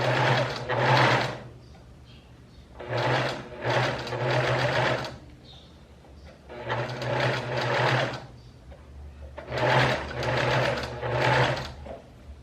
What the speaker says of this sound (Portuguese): Então, vamos passar essa costurinha aqui agora